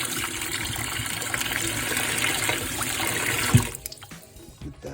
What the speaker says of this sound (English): Always rinse your meat, so I'm giving a nice little rinse.